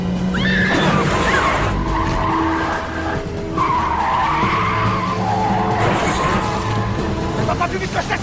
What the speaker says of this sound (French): Ça va pas plus vite que ça, cette bagnole!